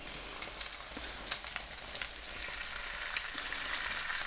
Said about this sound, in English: it's time to reintroduce our eggy crumpets to the pan. This time with added bacony Moorishness flavours.